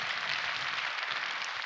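A church congregation claps together in a steady, dense patter that fills the room, with no voices on top.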